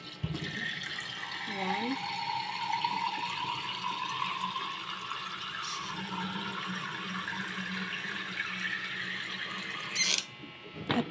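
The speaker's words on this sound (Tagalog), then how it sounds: "Lagyan muna natin yan ng tubig." Water runs steadily from a tap into a cooking pot while salmon is being prepared in a home kitchen, a continuous filling splash under someone speaking, ending with a brief clatter.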